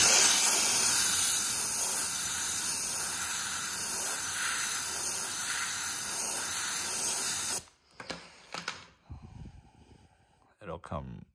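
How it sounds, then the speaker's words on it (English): A handheld steamer hisses loudly and steadily at close range while a carbon fiber dash overlay is loosened from a car dashboard, then cuts off and gives way to someone talking with light handling noises. "but with the use of steam,"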